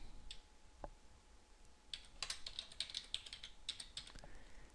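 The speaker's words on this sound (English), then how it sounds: "we got to type that password again" A computer keyboard being typed on while a password is entered, a quiet sparse click or two followed by a burst of rapid, irregular keystrokes, close and alone with no talk.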